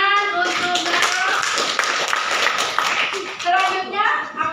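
Classroom applause at a senior high school: a burst of students clapping together, dense and sustained, with voices and chatter mixed in throughout.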